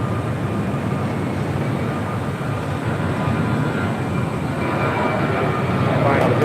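A Southwest Boeing 737 jet airliner at LAX gives off a steady, loud engine roar that holds evenly throughout with no breaks.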